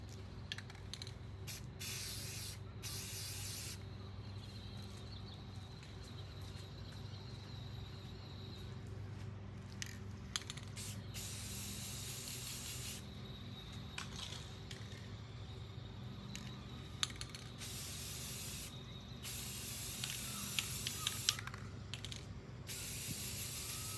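A Crab Bass prop from Majora's Mask gets a base coat sprayed on in repeated close hissing bursts of varying length, separated by short pauses and faint handling clicks, with no talking.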